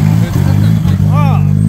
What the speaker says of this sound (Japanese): エンジン音やばいよ